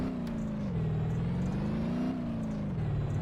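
A truck in the BeamNG.drive driving game revs hard at full throttle while its automatic gearbox hunts between gears, so the engine drone rises and dips in pitch over and over. The sound is steady and close, with no talk over it.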